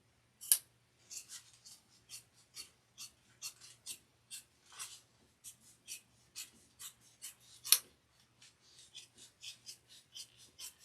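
Scissors snip through a foam layer for a sewn satchel bag, a steady run of about two dozen crisp, close cuts in even rhythm with two sharper louder snips, no voices.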